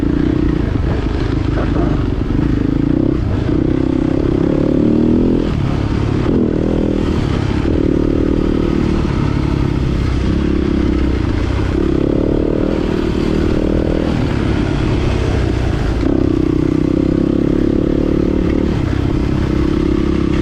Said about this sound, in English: He's on a KTM 250 today.